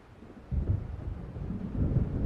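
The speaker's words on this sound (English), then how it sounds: "It seems there's a storm coming." Low, rolling thunder from an approaching storm near the lake in Alan Wake swells in after a quiet moment, a distant, muffled rumble that keeps growling on without sharp claps.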